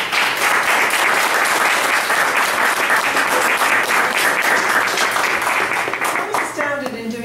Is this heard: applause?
yes